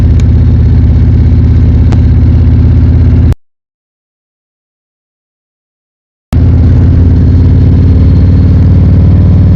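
A motorcycle engine drones loud and steady while riding, cutting out completely for about three seconds midway before the same constant roar returns.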